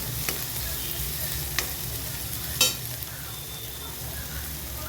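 Onion fries in a pan until golden for spicy okra, giving a loud, steady broadband sizzle that runs throughout, broken by a few sharp spatula scrapes, with no talk.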